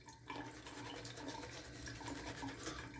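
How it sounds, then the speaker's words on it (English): Water runs steadily from a sink tap during a straight-razor shave with Tabac shaving soap, a continuous close splashing stream with no talk. "Let me run the water just to have a little stream."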